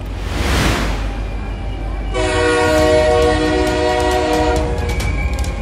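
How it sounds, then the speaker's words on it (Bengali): A mail train approaches at Howrah: a rush of rumbling rail noise builds, then a loud, sustained horn blares over the metallic clatter of wheels on track, close and overwhelming. "মেল ট্রেনটা এগিয়ে আসছে। পিস্টন, ফিশপ্লেট, চাকা, ব্রেকের সম্মিলিত ধাতব শব্দে প্রথমার কান ফেটে যাচ্ছে"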